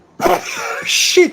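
A single sharp sneeze from a man close to the mic, followed by a short muttered remark.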